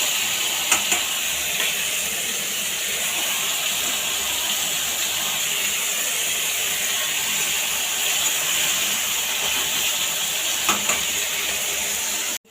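Bitter gourd and potato slices fry in a pan in a home kitchen, giving a steady, even sizzle throughout with a few faint clinks, no talking.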